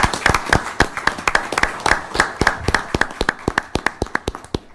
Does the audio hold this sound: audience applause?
yes